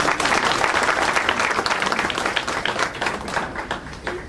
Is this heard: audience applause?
yes